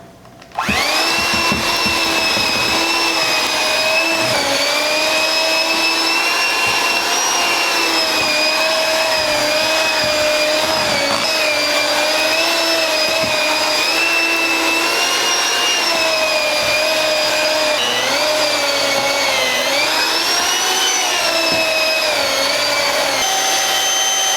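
Electric mixer running steadily while dry ingredients are worked into cookie dough for ice cream sandwiches, a loud continuous motor whine with wavering pitch that holds for the whole stretch, no talking.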